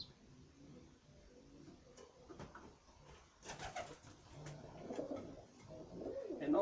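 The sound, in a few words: tame racing pigeons cooing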